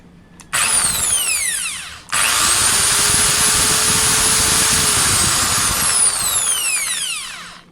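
A corded electric drill starts up and runs steadily for several seconds, cutting out briefly and restarting, then winding down; loud and close, with a high whine alone in a quiet workspace.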